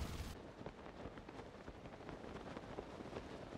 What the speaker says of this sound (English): Did it just start raining right now?